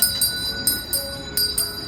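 A hand bell rung for Salvation Army donations on Thanksgiving, giving quick, bright, metallic rings in an irregular shaking rhythm, close and fairly loud.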